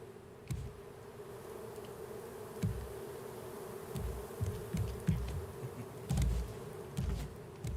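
Bees buzzing steadily around a beehive in the survival game Raft, a continuous droning hum with soft clicks and bumps scattered over it, moderately close and unbroken throughout.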